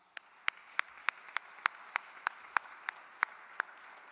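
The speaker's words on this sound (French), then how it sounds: "j'aimerais qu'on applaudisse ensemble très fort tous les récipiendaires de ce soir" Applause for award recipients at a Quebec cooperative merit gala, heard as single sharp claps at a steady rhythm, roughly three per second, fairly faint and with nothing else over them.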